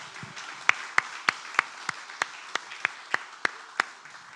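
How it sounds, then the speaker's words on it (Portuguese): During a church sermon, clapping rings out in a steady, evenly spaced rhythm, about a dozen sharp, fairly faint claps over a low room hum. "Dá um aplauso bem forte."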